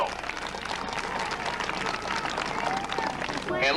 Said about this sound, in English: Put your hands and your voice together and cheer him into the field.